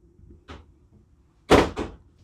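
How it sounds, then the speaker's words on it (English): A sliding door to the bedroom of a Montana fifth wheel RV is moved, giving a faint knock followed by two louder rolling thumps as it slides and stops, close by in a quiet room. "Coming back here, you have a sliding door to cover up the entrance into the bedroom."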